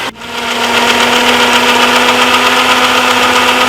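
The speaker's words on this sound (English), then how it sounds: "now we're gonna blend this for roughly about 3 to 4 minutes until it come out really finely and smoothie" A blender whirs steadily at full speed, blending a green smoothie of cucumber, spinach and ginger, a loud continuous motor hum with a steady whine that starts abruptly and runs without pause.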